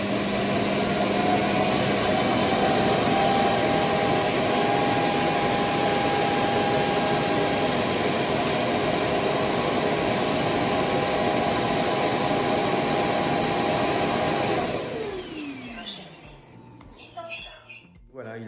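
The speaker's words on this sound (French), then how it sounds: "Démarrer la collecte de poussière." A Feider FRVC2 LiDAR robot vacuum's base station empties its dust bin with a loud, steady roaring suction that holds for about fifteen seconds, then winds down and cuts off, leaving quiet rustling.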